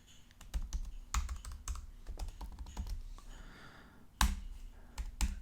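Close, fairly quiet typing on a computer keyboard while writing code, with irregular bursts of key clicks and a few sharper keystrokes separated by short pauses.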